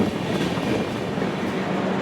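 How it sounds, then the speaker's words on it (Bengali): Shaktipunj Express passenger train running at night, a steady close rumble of wheels and carriage noise throughout, with no whistle standing out. "ট্রেনটা চলেছে হুইসেল দিয়ে"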